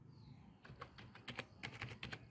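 A dummy password being typed on a computer keyboard: about a dozen quick, light key clicks in an uneven rhythm, faint and close, with no speech.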